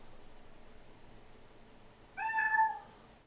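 A pet cat gives one clear, close meow lasting about half a second after a quiet stretch of room noise.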